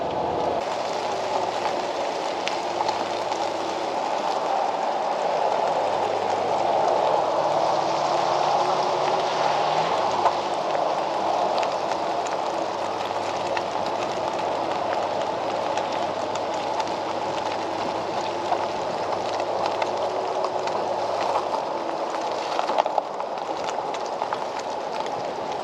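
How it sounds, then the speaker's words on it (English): Steady rain noise heard from inside a van driving through northwest Ontario near Kenora, a continuous broadband wash of road and rain sound with no talking. "What a rainy day."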